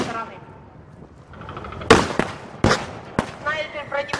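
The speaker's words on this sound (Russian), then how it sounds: "Снайпер противника производит еще один выстрел, уничтожает живую силу противника." Loud, close rifle shots and bangs crack out during a battle reenactment, with a few sharp reports in the second half over a quieter rumbling background.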